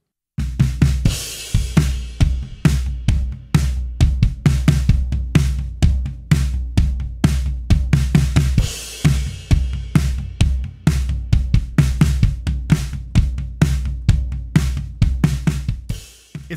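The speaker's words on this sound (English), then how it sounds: "what you're hearing is the raw drum sounds" Unprocessed snare drum fitted with a wide EMAD foam ring, struck in a steady rapid pattern of sharp, close hits with short damped decays, played alone.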